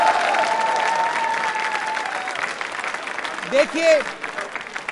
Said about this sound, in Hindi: तालियां बजाइए अपने लिए आप जोरदार